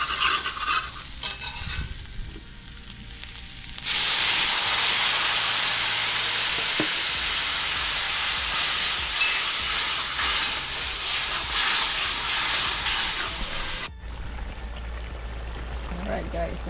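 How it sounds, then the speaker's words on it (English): A loud, steady sizzle of catfish curry frying in a hot pan erupts and holds for about ten seconds, with a faint stir, then drops away. "It's frying up with all these natural juices and stuff."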